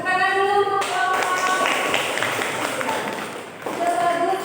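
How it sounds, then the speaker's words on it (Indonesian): Audience clapping at a university teaching-practice presentation, a dense burst of many hands lasting a few seconds, with a voice speaking at the start and again near the end. "Tepuk tangan dulu."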